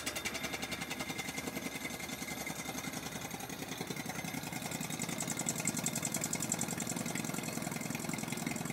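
A vacuum pump runs steadily while drawing air out of a bell jar, giving a continuous mid-pitched mechanical hum with a fine pulsing rhythm that stays even and fairly close throughout, with no voices.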